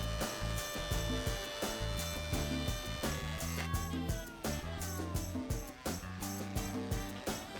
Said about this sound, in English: Then buy the cheapest electric hand plane you can find.